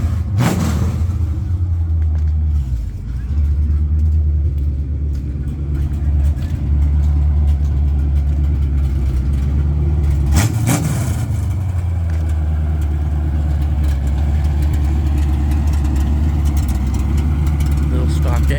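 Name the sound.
Ford Mustang coupe with stock engine idling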